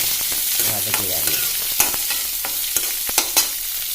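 Beans being stir-fried in a pan, close crackling sizzle under scraping stirs, with sharp clicks as the spatula strikes the pan several times.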